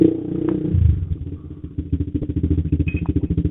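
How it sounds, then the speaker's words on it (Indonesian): A motorcycle fitted with a new Creed aftermarket exhaust revs up, then settles into a deep, bassy, pulsing throb of repeated throttle blips, close and loud with no talk. "Soalnya tadi coba digeber gitu aja suaranya udah enak, ngebas. Ngebas padet gitu."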